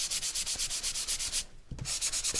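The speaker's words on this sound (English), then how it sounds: "So out comes our sanding sponge again." A sanding sponge rubs gently across a painted surface to distress it, making steady rhythmic scrubbing strokes, close and fairly loud, with a short pause midway before the strokes resume.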